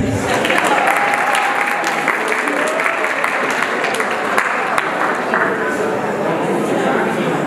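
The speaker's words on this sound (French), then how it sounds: "Applaudissez pour elle." A crowd claps steadily for several seconds, a dense, even wash of applause.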